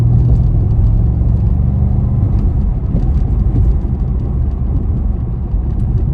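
A 2009 Porsche Panamera 4S with its 4.8-litre V8 and PDK gearbox rumbles at a steady, deep idle-like drone, close and continuous for the whole stretch with no voices.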